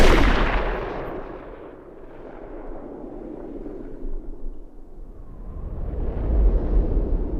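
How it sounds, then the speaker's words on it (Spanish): A gunshot in a TV crime drama scene from Breaking Bad, fired at a man's head: a loud burst at the start that decays into a low rumbling tail, with a swell of noise later and no speech. "Jack le dispara en la cabeza"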